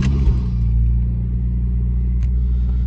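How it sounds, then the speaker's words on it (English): A Honda Civic Type R EP3 with a tuned engine map starts and settles into a steady idle, with a deep continuous rumble close by and no talk. "I haven't even started the car yet, so we'll start the car up"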